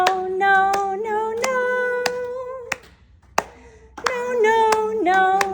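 Sharp hand claps keep a steady beat during a choir warm-up, sung syllables weaving between them, close and loud, with a brief pause before the clapping and singing resume.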